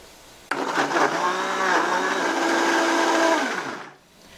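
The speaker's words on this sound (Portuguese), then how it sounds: "Vou tampar o meu liquidificador" A kitchen blender whirs steadily at high speed for about three seconds, blending orange pieces with a cup of oil for an orange cake. It starts abruptly, holds a loud even motor whine close by, then winds down.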